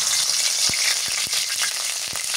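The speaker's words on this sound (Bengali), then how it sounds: "তো আগে মাছ রান্না করি, সরিষার তেল দিয়ে দিই। তেলের মধ্যে পেঁয়াজ বাটা দিয়ে দিই" Onion paste frying in hot mustard oil, with fish cooking, gives a loud, close, continuous sizzle punctuated by a few soft stirring knocks.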